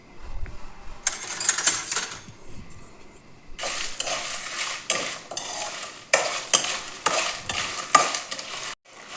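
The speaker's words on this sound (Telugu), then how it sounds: "దీన్ని వేపేసుకుందాం" Radish pods frying in a pan as they are stirred, with bursts of crisp sizzling and scraping of a spoon against the metal, coming in irregular clusters between quieter pauses.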